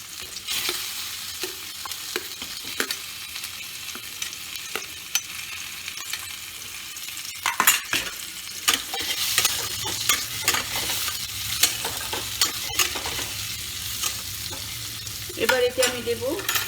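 Five-spice seeds and dried chilli sizzle in hot oil in a pan for a pumpkin curry, a steady frying hiss broken by stirring scrapes and clinks, with a louder burst of crackle near the end.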